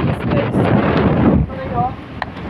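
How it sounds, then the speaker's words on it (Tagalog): Strong wind on an island road at Carabao Island buffets the microphone in loud, rough gusts with a brief lull midway, while a person talks underneath. "Ang lakas talaga ng hangin guys, natatakot na ako."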